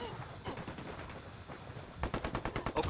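Bursts of automatic gunfire in the tactical shooter Ghost Recon Wildlands, with a rapid run of loud, closely spaced shots in the final second after quieter, muffled activity and faint voices earlier.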